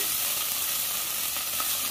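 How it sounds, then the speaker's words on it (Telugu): Mint, coriander and other ingredients for a chicken gravy fry in a pan. They give a steady, dense, close sizzle that continues without breaks and without any talk. "ఒక 1 మినిట్ ఇలా ఫ్రై చేసుకోవాలి."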